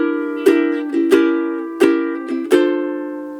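A ukulele strums a blues minor 2-5-1 chord progression, four bright chords struck about half a second apart, each left ringing clearly on its own with no talk.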